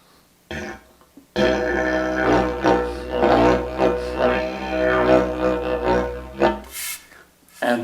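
A compact telescoping didgeridoo, a collapsible lightweight model, plays a sustained low drone in D with a steady fundamental and buzzing overtones, loud and close, lasting several seconds alone after a short breath.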